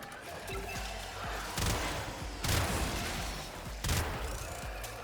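Gunfire in Warframe, several loud bursts of shots at roughly one-second spacing over a dense game soundscape, with brief quieter gaps between volleys.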